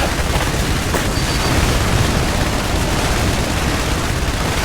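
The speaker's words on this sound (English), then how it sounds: "Airstrike approaching to designated coordinates." Airstrike explosions in the video game IS Defense, a steady, loud roar of blasts and rumbling booms with no break, thick with low-end thunder throughout.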